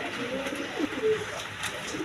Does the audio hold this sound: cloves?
no